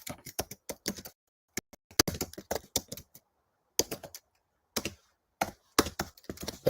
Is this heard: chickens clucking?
no